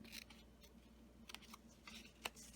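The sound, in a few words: cutting a tab in a card with scissors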